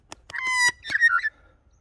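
A wild bird in the Clare Valley bush of South Australia gives a short, loud burst of harsh, whistled calls, close by, with no talking.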